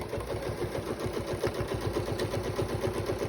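A sewing machine stitching a quarter-inch seam through several fabric layers for a zippered triangle pouch, a close, steady, rapid mechanical chatter that runs continuously throughout.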